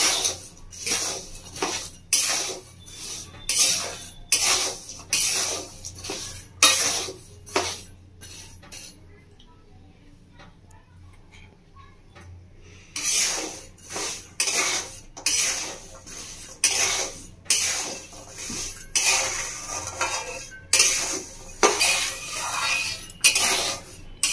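Cashews are stirred in a metal pan while roasting, producing repeated scraping and clinking strokes in a steady rhythm, with a brief quiet pause midway before the stirring resumes close and clear.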